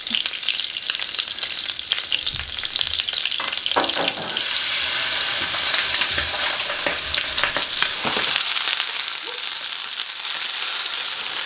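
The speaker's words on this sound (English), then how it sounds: "Crushed garlic, grated ginger, and green chili. Okay. We're going to cook that for about a minute." Crushed garlic, grated ginger and green chili sizzle and fry in a pan, a steady close crackle broken by scraping stirs, with no talk.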